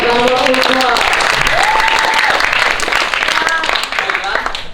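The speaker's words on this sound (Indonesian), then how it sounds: "Beri tepuk tangan kepada orang tua." Audience applause for the parents at a school language ambassador competition, loud dense clapping from a crowd with voices and cheering mixed in throughout.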